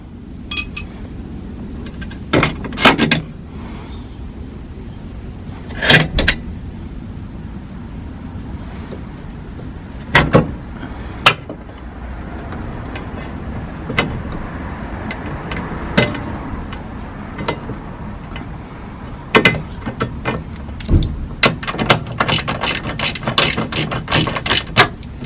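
Repeated ratchet clicking while control arm bolts come out of a Subaru, short bursts of ratcheting spaced through the clip with metallic clinks between, close and fairly loud with no talk.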